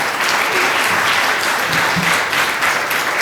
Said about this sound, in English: I would request that we give them a round of applause.